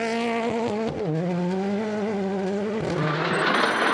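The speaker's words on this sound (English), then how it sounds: "Making his R5 debut in the Ford Fiesta, Liam Ryan was being sensible on his home rally" A Ford Fiesta R5 rally car races a forest stage at an Irish rally, its loud engine revving hard and shifting pitch up and down between gear changes.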